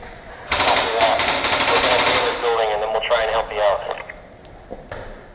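Automatic gunfire in the video game Operation Neptune, a dense rapid burst of loud shots lasting about two seconds, followed by more scattered fire and a few sharp single cracks, with radio-style voice chatter over it.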